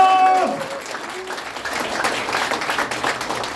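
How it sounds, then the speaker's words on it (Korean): Steady applause from a crowd fills the space, a dense patter of clapping that follows a brief spoken phrase at the start. "여러분 이 세 분의 후보를 위하여 힘찬 박수 한번 보내주시기 바랍니다"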